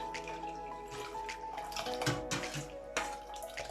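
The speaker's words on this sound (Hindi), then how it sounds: "अब हम इसमें ऐड करेंगे 2 कप मज़ीद ठंडा पानी फ्रिज का" Cold water from the fridge poured into a pot of Kashmiri pink tea, a steady splashing pour running the full few seconds at moderate loudness with no talk over it.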